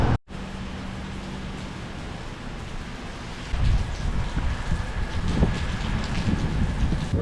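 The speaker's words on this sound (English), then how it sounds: "I thought I escaped the rain." Steady rain hissing over gusty wind noise, growing heavier and louder about halfway through, with no voices.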